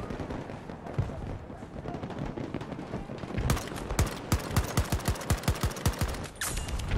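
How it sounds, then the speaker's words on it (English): An AK assault rifle tap firing in Battlefield 2042, a rapid series of evenly spaced loud gunshots, about a dozen in a row, over constant game background noise. "the AK is feeling pretty nice. That being said, I am tap firing right now"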